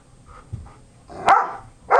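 A dog gives a couple of short barks and a faint yip, close by and fairly loud, with the sharpest bark near the end and no talking over it.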